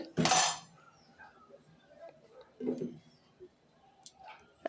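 A lid clinks onto a pot of chicken curry with one loud metallic clatter near the start, then a few softer knocks and clicks as it settles, with quiet kitchen sounds around it.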